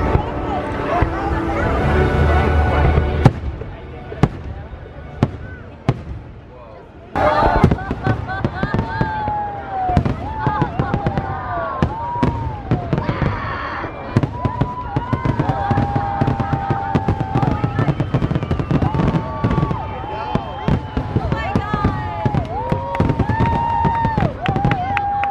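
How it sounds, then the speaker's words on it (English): The Holiday Wishes fireworks show at Walt Disney World on New Year's Eve: rapid crackling and popping bursts over a loud orchestral soundtrack, with a crowd chattering nearby throughout. "Getting ready for the first set of fireworks, which is Holiday Wishes."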